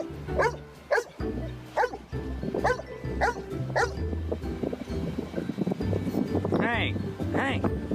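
A dog lets out a quick series of sharp barks and yips, close and fairly loud, over a busy background that includes a higher whistling call near the end.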